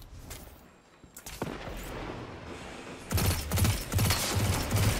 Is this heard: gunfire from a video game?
yes